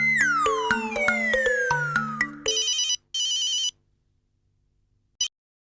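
A telephone rings in a domestic sitcom scene, first a descending melodic ringtone with busy layered tones, then bright repeated electronic trills in two bursts, ending with a short chirp after silence.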